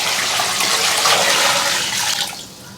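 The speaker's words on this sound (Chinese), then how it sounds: "加水。" Water pouring steadily into a pot of beef bones for boiling, a loud, close rush of liquid that tapers off near the end.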